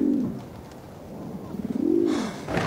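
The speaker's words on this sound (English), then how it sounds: "We really are going to have to do something about those birds." Pigeons coo outside in soft, rolling calls, one near the start and another near the end, fairly close and otherwise alone apart from faint background noise.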